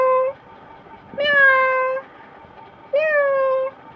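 A voice imitates a cat's meow for a baby, giving three drawn-out, mewing cries separated by short pauses, close and clear.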